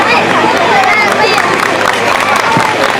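Audience applause and cheering at a school annual function, a dense, steady wash of clapping and crowd noise that holds loud throughout with babble mixed in.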